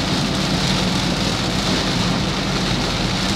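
Heavy rain pours steadily on a Daihatsu Ayla during a drive from Ambarawa to Jakarta, a dense, unbroken hiss drumming on the car from start to finish.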